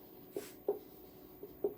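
Marker or chalk strokes on a classroom board during a chemistry lesson, a handful of short, separate scratches spaced irregularly, fairly quiet with no talk.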